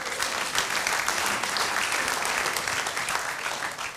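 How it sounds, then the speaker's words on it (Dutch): A crowd at a municipal election results evening applauds the campaigners, a full, steady burst of clapping lasting the whole few seconds and easing slightly at the close. "Daar mag best een applaus voor."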